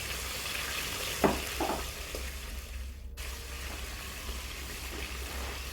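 Onions sizzling in hot oil in a pot, seasoned with curry powder and thyme for a mackerel fish stew, a steady close frying hiss with a few stirring scrapes and clinks, no talking.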